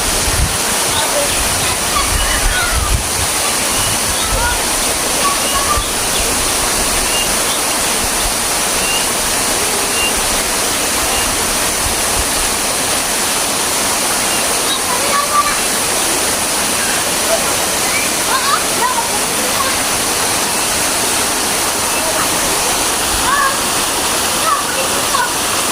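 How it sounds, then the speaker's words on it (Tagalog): A waterfall at a busay with large pools roars as a loud, constant rushing wash that fills the whole stretch without letting up, close by and unbroken. "Waterfalls."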